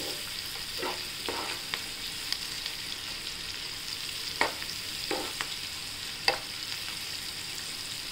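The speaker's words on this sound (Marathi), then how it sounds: "तर छान परतून घेऊया" Food sizzles steadily in a hot pan while being sautéed, with occasional scrapes and clinks of a spoon stirring, close and continuous, no talking.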